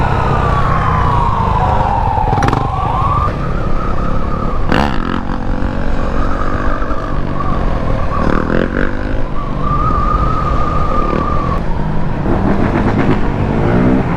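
An ambulance siren wails steadily in the middle distance beside a street, its tone sweeping and holding, with traffic rumbling and a motorcycle engine revving underneath.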